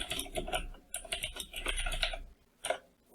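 Computer keyboard typing in quick, uneven clusters of clicky keystrokes, close and fairly loud, with a brief pause before a final few taps and no talking.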